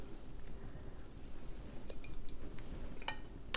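Sautéed bok choy greens are stirred in a pan, giving faint scattered clinks and scrapes of a utensil against metal over a low background, with a louder knock at the end.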